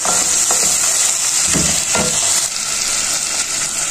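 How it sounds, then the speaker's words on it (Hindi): Onion, garlic and ginger sizzle steadily in a hot pan, a loud continuous crackling fry with a few brief stirring scrapes and no talking. "दो मिनट तक प्याज और लहसुन अदरक को फ्राई कर लिया।"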